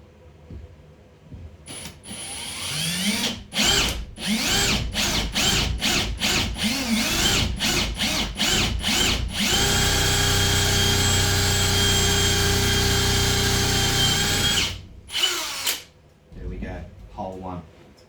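A power drill drilling a pilot hole in scrap wood whirs in short bursts, then runs steadily for several seconds before stopping, with a few more brief spurts after; fairly loud and close.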